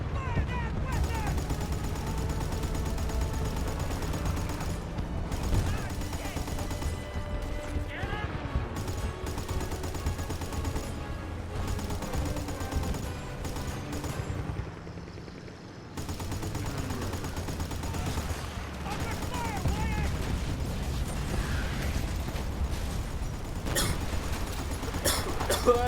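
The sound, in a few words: gunfire from weapons in a video game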